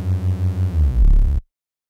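A Reese bass synth patch built in Serum drones with a heavy sub low end and a slow throbbing, phasing pulse, swelling louder before cutting off abruptly, with no voices.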